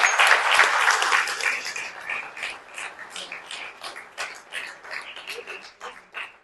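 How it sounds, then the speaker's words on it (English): Audience applause at an Indoor Africa Hockey Cup ceremony, a dense burst of clapping that starts loud and thins into scattered, uneven claps over several seconds. "I think they deserve a round of applause"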